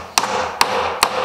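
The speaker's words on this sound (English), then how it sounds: "hammer them in equally to tighten the joint" Three sharp hammer blows driving wooden wedges into the frame joint of a ledge and brace gate door, evenly spaced about every 0.4 seconds, close and loud with no voices.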